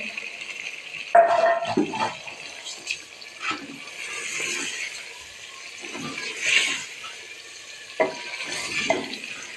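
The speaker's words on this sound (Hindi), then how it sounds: "मसाले हमारे भून चुके। अभी चिकन डाल रहे हैं, आधा किलो चिकन है।" Half a kilo of chicken stirred into fried spices in a pan, with a soft continuous sizzle broken by several scraping, clattering stirs of a spoon, close and alone.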